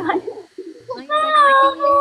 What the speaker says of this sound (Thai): โอ้ยเรามีแต่แมวอ่ะ ต้องอวดน้อง โกลัน